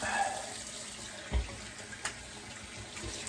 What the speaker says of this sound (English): Pardon the running water here.